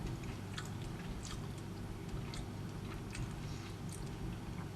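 Steady close-up chewing of breaded salmon with an almond flour crust, a regular series of soft crunchy bites over a low background hum, with no talking.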